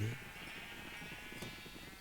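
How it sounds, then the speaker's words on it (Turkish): Minecraft sheep bleat in a drawn-out, wavering cry that carries through most of the moment, fairly close and steady, with a brief sharper sound near the end. "Bayağı bir var koyun zaten."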